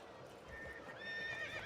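A horse in Assassin's Creed Brotherhood lets out a whinny that rises and wavers, with hoof clops underneath, all fairly faint and clearest toward the end.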